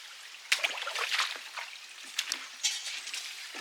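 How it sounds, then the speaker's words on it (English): Water trickles and splashes through a culvert on a homestead after a hole was blocked off, a steady close babbling flow with small bursts of gurgling. "Now the water's flowing through the culvert."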